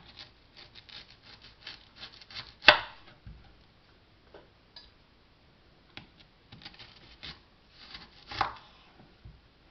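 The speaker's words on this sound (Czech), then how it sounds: "teď ji nakrájím na kolečka" A knife cuts a peeled onion into rings on a board, producing soft scattered chopping taps and scraping strokes with a couple of louder thuds, close but fairly quiet, with no speech.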